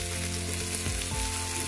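Potato, radish and carrot pieces frying in a pan, with a dense, loud, continuous sizzle and crackle, plus a couple of soft stirring knocks, with no voices.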